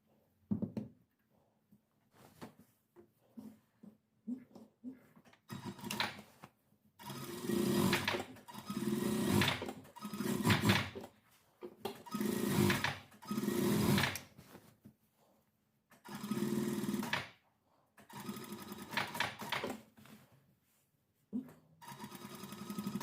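A sewing machine stitches a trench-style half coat in short bursts, each run a close, loud whirring chatter separated by quiet pauses while the fabric is repositioned.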